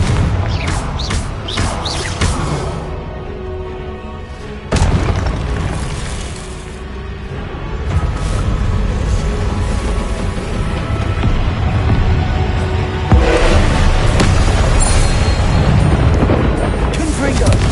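Repeated blasting-spell explosions in a Harry Potter video game, booming bursts that recur every few seconds amid continuous rumbling action, with sharp crackling onsets over a loud, dense background.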